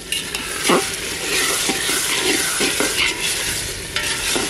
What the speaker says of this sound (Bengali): এবার নাড়াচাড়া দিয়ে জল দিয়ে দেবো